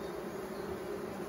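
Honeybees hum in a dense, steady drone close by during an inspection of an emergency split hive, a continuous buzzing with no talk.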